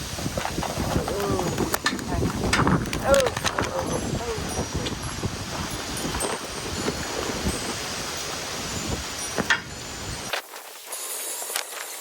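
Wind gusts outdoors while an awning is being taped up, a steady broadband rush that swells and buffets for about ten seconds before dropping away abruptly near the end.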